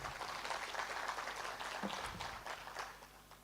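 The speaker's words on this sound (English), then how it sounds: "A round of applause once again, please." An audience at a savings cooperative conference in a lodge claps in a round of applause for a president's address, a moderately distant, even patter of many hands that tapers slightly toward the end.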